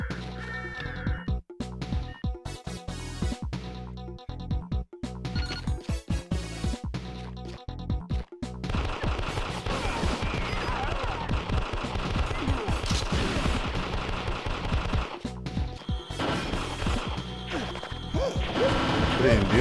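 Gunshots in the arcade game Elevator Action Returns, dense and continuous with rapid repeated firing, crashes and impacts under busy game music, loud throughout.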